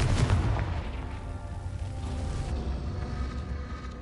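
A Confringo fire spell in Hogwarts Legacy goes off with a heavy booming blast and a rumbling roar that lingers and slowly decays, loud and close, with no other sound over it.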